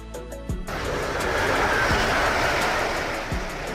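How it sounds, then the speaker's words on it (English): A high-speed train, similar to a bullet train, rushes past as a loud, steady broadband roar that swells and then holds. Faint rhythmic thumps from the wheels run underneath it, and the sound carries on without a break. "High-speed train, similar to bullet trains, designed to run at very high speeds."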